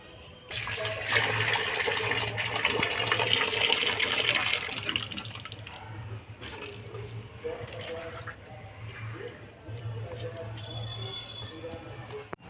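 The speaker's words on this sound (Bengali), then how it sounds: "গরম জলটা ফেলে দিয়ে ঠান্ডা জলে ধুয়ে নেবো" Hot water is poured off boiled taro, then the taro is rinsed under cold water. The rushing water is loud at first, followed by softer splashing and trickling. A voice talks over part of it.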